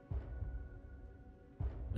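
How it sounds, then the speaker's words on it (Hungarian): A slow, muffled mechanical heartbeat from Lies of P thumps twice, a low robotic pulse with a faint steady hum sustained between the beats. "Mondjuk már halljuk a szívverést, de még ilyen robotos."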